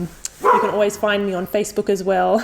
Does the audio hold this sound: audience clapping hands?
no